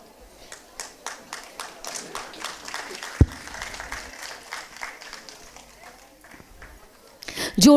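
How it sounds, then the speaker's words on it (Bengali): Audience applause at a Bengali community gathering, with a scattered, uneven patter of claps, moderately loud, and a brief sharp knock partway through. "একটা করতালি"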